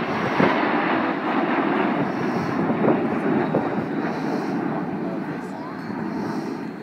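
Red Arrows display jets roar overhead in Diamond Nine formation at an air day, a broad steady rumble filling the air while a commentator talks over it on a public address.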